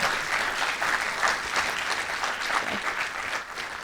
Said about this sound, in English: Please keep your round of applause going for Jacqueline Barsby, Ricky Fernandez, Sama